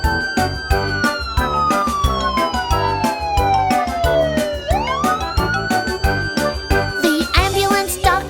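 A wailing siren sweeps down and back up in pitch over an upbeat musical backing with a steady beat, loud and continuous throughout.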